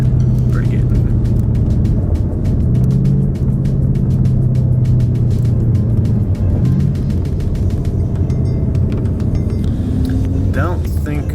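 A Ford Mustang pulls hard through second gear at wide open throttle, engine note climbing under a loud, steady rumble inside the car, with a voice talking over it.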